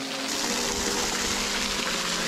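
A waterfall roars in a steady, dense rush of falling water, continuous and close, with no other sounds over it.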